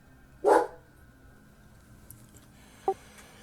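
A dog bays at the far end of a hallway: one loud bark followed by a much fainter, shorter yelp, separated by quiet.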